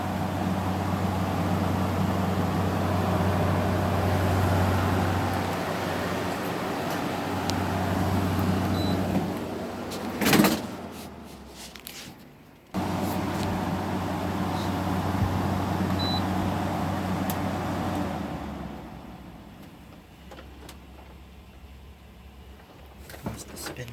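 A window air conditioner runs with a steady hum and whir, then a sharp clunk, and the motor and fan wind down to quiet near the end, close and moderately loud.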